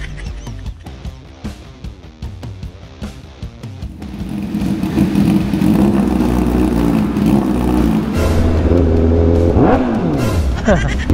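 A Honda CBR1000RR-R Fireblade SP sport motorcycle engine, its first start after long disuse, idles and then rises into a loud, sustained rev that swells and falls near its end, with no talk over it.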